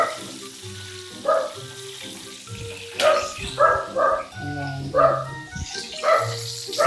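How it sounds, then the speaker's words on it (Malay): A dog barks repeatedly in short bursts, fairly close, over a steady sizzling background and a low tonal hum. "Ya betul bunyi anjing ni."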